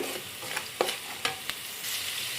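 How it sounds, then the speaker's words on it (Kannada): Onions and vegetables for chicken fried rice sizzle softly in a pan, with a few quick stirring scrapes and taps over a steady frying hiss, close and fairly quiet. "ಈರುಳ್ಳಿ ಸ್ವಲ್ಪ ಚೆನ್ನಾಗಿ ಫ್ರೈ ಮಾಡ್ಕೋಬೇಕು"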